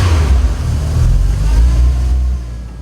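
An old VW Golf GTI 1.8 16-valve engine running with an alarming noise, a loud, close, continuous low rumble holding steady before easing off slightly near the end, with nobody talking.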